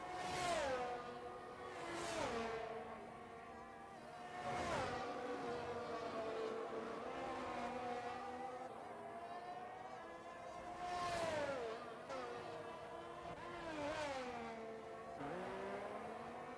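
Race cars lapping during Bahrain Grand Prix qualifying in a racing game, engines rising and falling as cars pass one after another at moderate distance, with repeated high-revving whines and downshifts and no talk.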